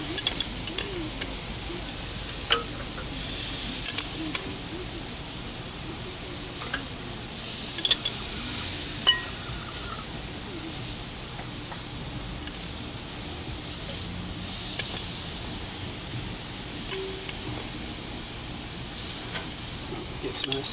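Edamame pods sizzling on a grill and salt block, a steady soft hiss and crackle with occasional ticks and scrapes, faint and continuous without talk.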